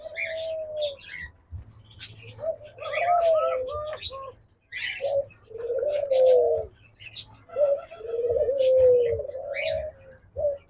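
Diamond doves at a bird farm cooing in soft, repeated rising-and-falling phrases, close and fairly steady, with a few higher chirps and brief pauses between calls.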